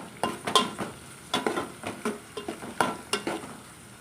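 Sliced onion and green chillies fry in a pan while a spoon stirs them in repeated scraping strokes, about a dozen strokes over a light sizzle, close and fairly loud, no talking.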